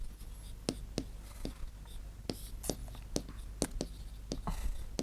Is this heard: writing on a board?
yes